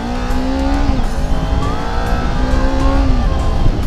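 A 2018 Kawasaki Ninja 250 FI motorcycle on a test ride revs loudly up close, its engine pitch rising and falling through gear changes over steady wind and road noise.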